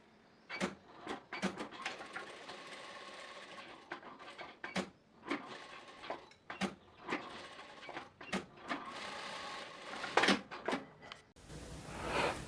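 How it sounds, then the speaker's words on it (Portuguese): A straight-stitch sewing machine runs a seam on wide-leg trousers in short, close bursts of whirring stitches, separated by brief pauses. "vou na máquina reta fazer essa costura"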